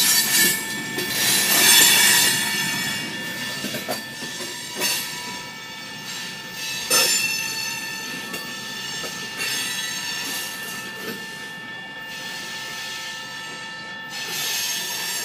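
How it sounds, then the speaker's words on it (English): An Ohio Central freight trash train rolls along the Cincinnati Wilmington & Zanesville line. Its wheels squeal in sustained high tones, and sparse, irregular clacks on the rails are spread across the passage. "a lot of times you won't hear the clickety-clack sound anymore. At least you still get to hear a little bit of it right here."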